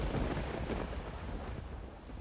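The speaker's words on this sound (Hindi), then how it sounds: "हे भगवान, इतने जोर की बारिश आ गई" Heavy rain pouring down in a storm, a loud broadband roar with deep rumbling that fills the scene evenly and briefly swells near the start.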